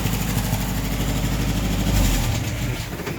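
A Ford Escort MK1 engine with a bad exhaust leak runs at a steady idle, a loud, close, rough low rumble throughout with no talking.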